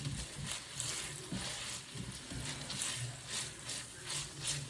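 Bacon pieces fry in a pan while being stirred, a faint crackling sizzle with rhythmic scraping pulses from the stirring and no speech.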